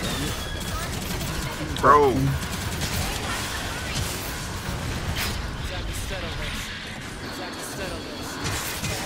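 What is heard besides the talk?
gunfire in video game Gundam Evolution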